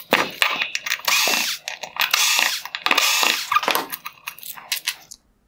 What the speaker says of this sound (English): There are three T15 Torx screws holding on this reflector.